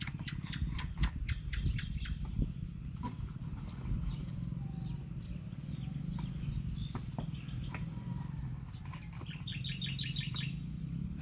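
Small birds chirp and tweet in quick, faint bursts against a steady evening insect drone and low background hum, with a brighter cluster of calls near the end; no talking.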